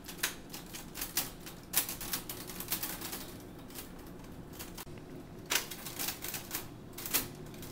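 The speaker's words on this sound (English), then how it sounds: "5 million words on that old school typewriter right below you" Old-school manual typewriter being typed on, with irregular bursts of sharp mechanical key strikes and pauses between runs, fairly close and alone without any talk.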